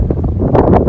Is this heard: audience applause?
no